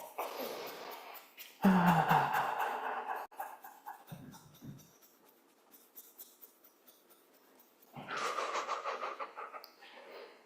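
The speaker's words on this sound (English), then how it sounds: "Breathing." Heavy breaths during a gentle bounce-and-shoulder movement exercise come in two loud bursts separated by quiet, each a long rushing exhale heard close up.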